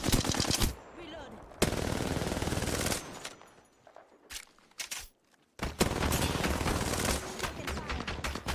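Rapid automatic gunfire from the Apex Legends video game, loud dense bursts separated by short lulls, with faint game sounds between them.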